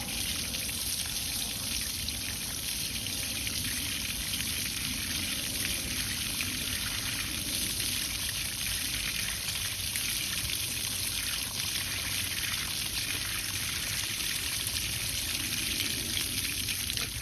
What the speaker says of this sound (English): Next step is you hose this down.